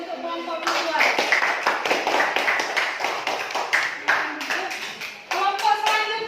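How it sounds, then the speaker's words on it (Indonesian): A classroom of children claps for a student group after its presentation, with quick, fairly loud hand claps that form a lively, uneven patter, mixed with faint young voices. "Coba kasih tepuk tangannya dulu untuk kelompok visual."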